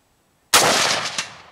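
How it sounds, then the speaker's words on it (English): A single sharp, loud report from an XM177 rifle firing at an outdoor range, ringing out briefly and decaying over about a second. "Let's go to the sniper target, which is the paddle target. Let's shoot at the center of mass paddle."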